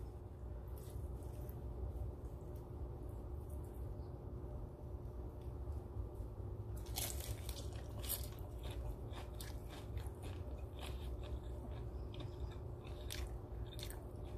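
Crunchy Filipino egg rolls, lumpiang shanghai, being bitten and chewed up close, with quiet background before a run of sharp, repeated crisp crunches starts partway through and keeps going steadily to the end.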